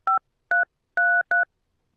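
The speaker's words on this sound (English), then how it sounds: "Please use your telephone keypad to enter the first 2 or more letters of the person's first" Four short two-tone DTMF beeps from a telephone keypad, pressed at an uneven pace while letters are keyed into an automated office phone directory; clean and close with silence between presses.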